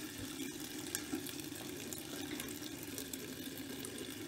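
A coin found with a metal detector is rubbed by hand in a bowl of salted water, producing a steady, close, wet swishing and sloshing with no pauses.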